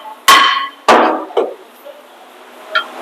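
A hammer strikes a brake rotor on a Ram 2500 turbo diesel heavy-duty pickup during rear brake work, with two loud ringing metallic blows, a lighter third hit and a faint later tap, each blow leaving a short clanging ring.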